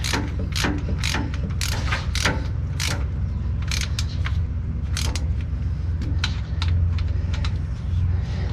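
A ratchet re-tightens bolts on an Eaton Fuller 10-speed truck transmission casing, a series of quick close clicking bursts in an irregular rhythm over a low steady hum, with no talk.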